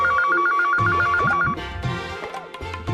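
A telephone rings in a home with a fast warbling electronic trill for about a second and a half, then stops as household noise and movement carry on underneath.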